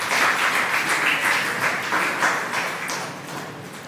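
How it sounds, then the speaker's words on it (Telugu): A church congregation at Sunday Mass claps loudly for its youth, a dense, continuous wash of many hands applauding that fills the space and stays strong throughout, without speech. "ఈరోజు ఒకసారి ముందు మన యూత్ పిల్లలందరికీ ఒకసారి గట్టిగా చప్పట్లు కొట్టండి."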